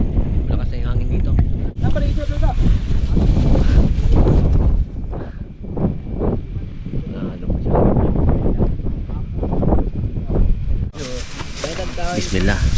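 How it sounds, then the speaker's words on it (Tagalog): Strong wind on Mount Agkir Agkir in Libungan, North Cotabato, buffets the microphone in a steady low roar, with people talking loudly over it throughout. "Lakas na yung hangin dito."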